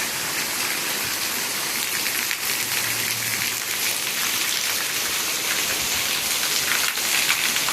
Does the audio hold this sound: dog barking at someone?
no